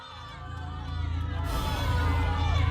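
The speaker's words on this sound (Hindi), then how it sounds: "ऐसा लग रहा है लोग चीख रहे हैं" Crowd of villagers screaming and shouting in a Hindi horror cartoon about a werewolf, a dense, agitated mass of voices that swells and grows louder throughout, with no single voice standing out.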